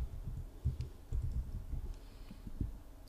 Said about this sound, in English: we're going to type in Sacramento.